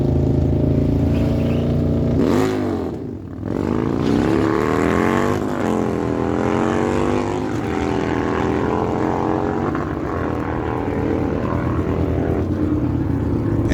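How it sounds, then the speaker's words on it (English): A 218 Harley-Davidson FLHR and a 2024 Harley-Davidson Pan America drag racing at Miramichi Dragway, a loud, near engine roar that rises through gear shifts with a brief dip, then a sustained, wavering high-revving drone. "Claude Jovette now bringing it in, left side of the track, 218 Harley FLHR, 1090 dial on that machine from Quebec"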